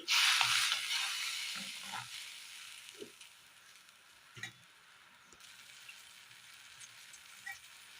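Quiet, steady sizzling and bubbling from a pan of fish curry masala, with a few soft clinks and stirring sounds.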